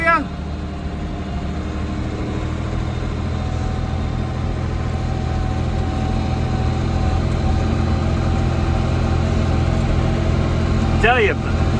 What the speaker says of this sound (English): driving through all these snowbanks, I'm just gonna destroy this tractor